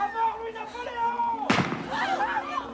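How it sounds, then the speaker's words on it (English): A single gunshot cracks out abruptly in the middle, loud and sharp with a ringing decay, over a steady background of sustained musical tones. "a gunshot cracks through the air"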